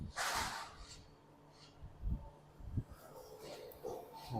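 A person sniffles through the nose outdoors while walking in Halifax, Nova Scotia, giving a few short, soft snorts and breaths spaced apart over quiet background.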